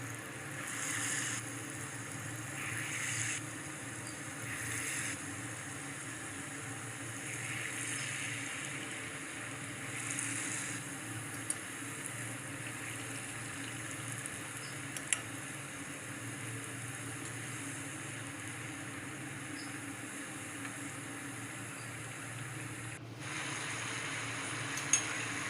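Sweet wheat bonda frying in hot oil, a soft continuous sizzle and bubbling that stays low and even throughout, with a few faint clicks.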